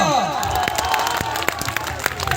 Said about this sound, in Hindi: एगो ताली बजावा हो भैया।